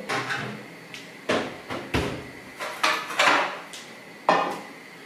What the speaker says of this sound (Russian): Возьму противень.